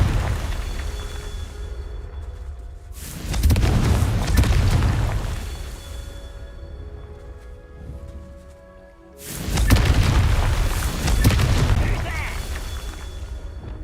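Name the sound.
Confringo explosive spell blast from video game Hogwarts Legacy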